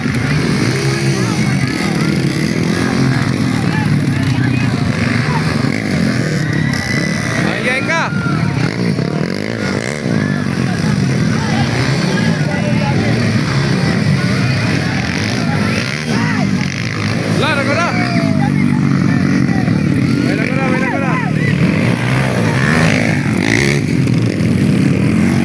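A motorcycle engine revs and labours nearby while a truck struggles, a continuous loud rumble with rising and falling pitch, mixed with people talking and shouting throughout.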